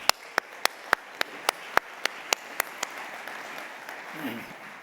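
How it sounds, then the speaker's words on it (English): At a conference honoring David Grain, one nearby pair of hands claps sharply and evenly about four times a second over a softer wash of audience applause, then stops while the room's murmur carries on. "let's just give David Grain, our honoree, another round of applause, please"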